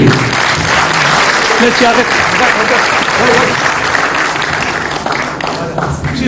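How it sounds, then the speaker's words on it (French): A school conference audience applauds during a gift presentation, loud sustained clapping running from start to finish with voices murmuring beneath it. "Et on les applaudit, s'il vous plaît."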